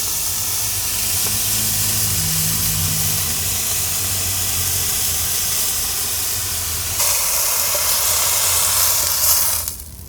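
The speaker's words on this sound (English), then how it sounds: "There's some serious steaming up here, and there's probably some smoke coming out of my car." Steam from cooking inside a parked car hisses steadily and close, a constant airy rush that grows louder partway through before tapering at the end.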